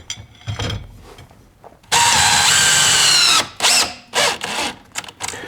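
A power drill drives small screws into the grill of a Rockford Fosgate subwoofer being installed in a JDM Honda S2000. One long, loud whirring run is followed by several shorter stop-start bursts, close up.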